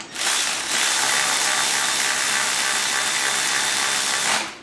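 Power tool running bolts into a Honda Civic Si transmission case to snug them, a steady loud mechanical whir lasting about four seconds that starts and stops abruptly, with no talking.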